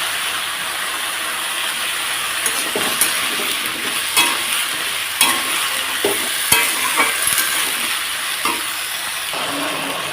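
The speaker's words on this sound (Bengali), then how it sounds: "মুগ ডালটা দিয়ে হালকা একটু নাড়াচাড়া করে দিয়ে দেব" Mung dal frying with spices in a pan while being stirred, a loud continuous sizzle with irregular scraping strokes of the spoon against the pan, close and steady throughout.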